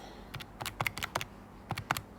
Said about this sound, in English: typing into my calculator,